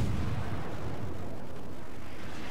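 Warship guns firing in the naval game World of Warships, a deep rumbling boom that rolls on for the full stretch, dense and low and fairly quiet, with no voices over it.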